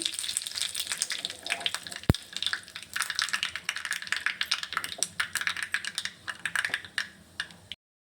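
Curry leaves crackle and sizzle in hot oil for a small tempering with chana dal and urad dal, a dense, steady spitting hiss up close with scattered sharp pops, ending abruptly.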